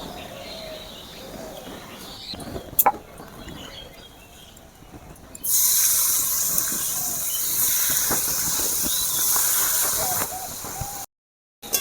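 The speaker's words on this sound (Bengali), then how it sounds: "ওই কড়াতে তেল দিয়ে আমি মাছ ভেজে নেব" Small mourala fish fry in hot oil in a wok. A quieter stretch with a couple of sharp knocks gives way to a loud, steady hissing sizzle that continues until a brief cut near the end.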